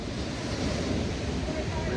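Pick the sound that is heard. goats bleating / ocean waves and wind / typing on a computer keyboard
ocean waves and wind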